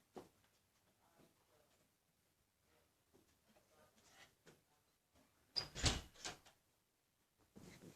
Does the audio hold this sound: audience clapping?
no